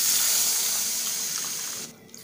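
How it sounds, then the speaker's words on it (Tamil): Tamarind water pours steadily into a bitter gourd curry, making a continuous splashing, hissing stream that stops abruptly near the end. "இதில் கரைச்சி வச்சுருக்க புளி தண்ணியை ஊற்றிடலாம்."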